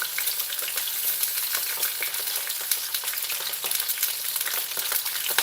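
Green chillies sauté in a pan for tamarind chutney, giving a steady, close hiss of frying oil with light stirring scrapes and clicks throughout. No one speaks.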